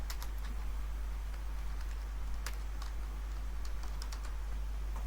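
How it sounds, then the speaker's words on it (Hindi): Quick, light keystrokes on a computer keyboard while typing in MS Word, a continuous run of crisp clicks over a steady low hum, close and moderately loud. "लोगो टाइप कर लेंगे।"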